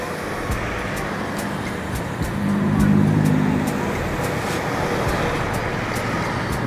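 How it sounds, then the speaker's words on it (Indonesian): A Damri bus and other traffic on a toll road near the Cijago and JORR 2 interchange make a steady, dense roar of passing vehicles, with a low rumble that swells for a moment midway and then settles. "Ada bus Damri lagi."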